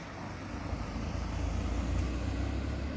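A car passes by on a nearby road, a low rumbling whoosh that swells gradually and stays steady at moderate volume.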